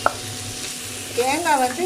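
Grated coconut stirred and fried in a pan with tomato and radish for a Tamil radish thuvayal, giving a low steady sizzle with a scrape of the spoon near the start.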